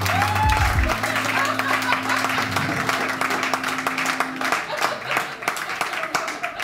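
A comedy show audience claps steadily for comedian David Goudreau, with a sustained musical tone at the start. The applause fills the room and tapers slightly toward the end.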